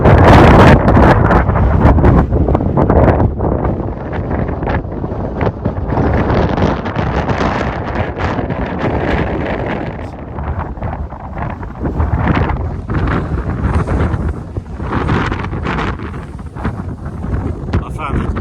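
Strong wind buffeting the microphone on an open hillside at Gate Side Clough, loud and continuous roaring gusts for the whole stretch, easing slightly in the middle before picking up again.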